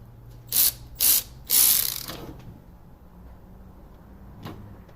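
A ratchet wrench clicks through three quick bursts while bolts are undone on a 2000 Dodge Neon 2.0 SOHC, close and fairly loud, then a lone faint click follows after a pause.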